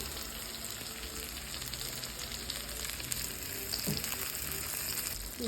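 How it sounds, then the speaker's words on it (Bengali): Eggplant and hilsa fish frying in oil, a constant hissing sizzle at moderate level with faint crackles and a brief clink near the end. "এখানে বেগুন ভাজি হচ্ছে বেগুন ভাজি আর ইলিশ মাছ ভাজি"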